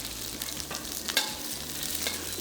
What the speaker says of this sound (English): When the oil is hot, add in the vegetables and the aromatics.